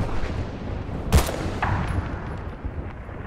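Gunfire in the video game Battlefield Bad Company 2 cracks out as one loud, sharp shot, followed moments later by a fainter report over a constant rumbling battlefield background.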